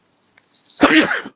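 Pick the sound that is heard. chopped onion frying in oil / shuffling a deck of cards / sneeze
sneeze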